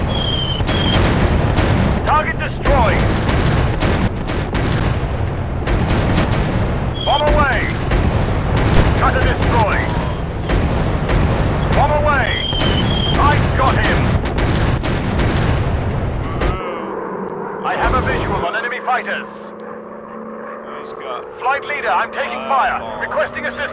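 Bombs and gunfire boom through a World War One air combat video game, dense rumbling explosions and engine drone filling the scene, with excited in-game voice lines and shouts over the top before it drops to quieter effects.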